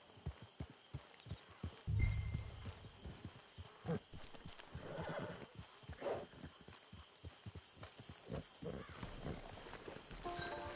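Video game horse in Red Dead Redemption 2 Online: rhythmic hoofbeats clop steadily at a trot, with a brief horse snort and a low rumble partway through, moderately loud and close.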